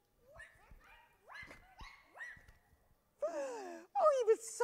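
Children's voices imitate a dog barking three times during a church-set storytelling session, with loud shouted barks near the end following an adult storyteller's speech.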